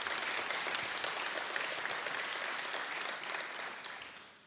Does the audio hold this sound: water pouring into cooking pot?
no